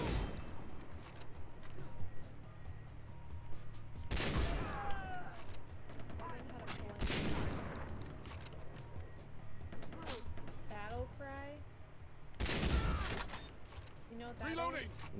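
In the shooter game Far Cry 3, a few sharp gunshot blasts and booms ring out at intervals amid mechanical clatter, mixed under ongoing voices of players talking.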